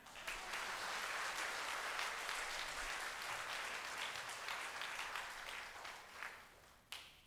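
Loud, sustained applause from a large church revival crowd of about 200, steady and dense throughout, tapering slightly near the end.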